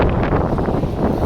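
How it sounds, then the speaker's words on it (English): Heavy low rumbling wind buffeting a microphone while walking downtown, loud and continuous with gusty fluctuations, no talking. "Very difficult to make videos in the wind"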